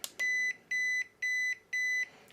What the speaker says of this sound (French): 4 bips, mode 4.